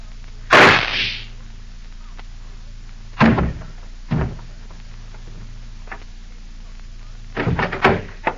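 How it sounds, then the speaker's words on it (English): A radio-drama gunshot effect cracks sharply once and loudly, followed by several duller knocks and thumps over a steady background hum, no talking. "I heard a shot."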